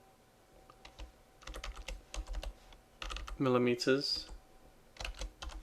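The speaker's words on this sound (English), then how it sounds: "then we're going to type in" Keys clatter on a computer keyboard in short irregular bursts of clicks, close and fairly quiet, with a person speaking briefly in the middle and typing resuming afterward.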